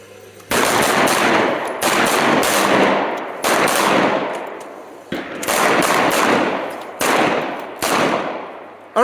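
Handgun fire at a tactical shooting training session: rapid overlapping volleys of loud shots from several shooters, arriving in four or five dense bursts with brief gaps between them.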